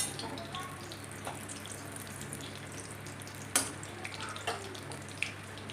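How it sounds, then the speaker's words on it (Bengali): Whole spices drop into hot oil for a Bengali crab curry and crackle with a soft, steady sizzle, with occasional sharper pops and clinks close by against quiet background noise. "তেল গরম হয়ে গেছে, এবার ফোড়ন দিয়ে দিলাম।"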